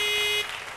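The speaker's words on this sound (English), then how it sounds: "the challenge buzzer" Game show challenge buzzer, a single short electronic buzz lasting under half a second, loud and alone before cutting off into faint room noise.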